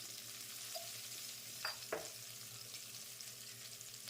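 Green chillies frying in oil as turmeric is stirred in, a soft steady sizzle with a couple of brief spoon scrapes against the pan, quiet and close.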